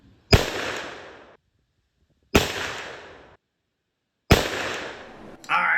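Three loud muzzleloader shots using 777 Fire Star pellets and Parker 250-grain bullets, each a sharp close blast with a long decaying echo, spaced about two seconds apart.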